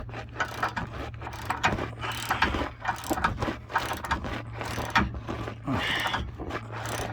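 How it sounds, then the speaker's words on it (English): A ratchet tightening the torsion key bolt on a 1995 Chevrolet Silverado, rapid clicking pawl strokes in repeated bursts with metallic clanks, close and steady over a low hum, no speech. "It's tightening, and you can see this torsion key moving back."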